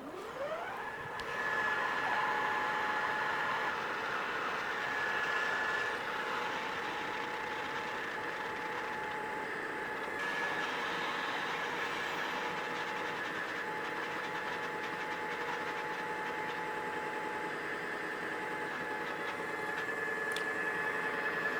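Sewing machine running its bobbin winder to wind thread onto a bobbin, a steady mechanical whine and hum held at an even level for the whole stretch with no talk.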